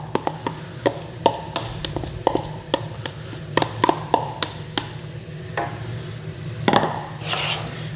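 Leeks, onions and celery drop into hot oil in a pot for potato and leek soup, bringing sharp wooden knocks and scrapes of stirring over a steady low hum, with a soft sizzle swelling near the end.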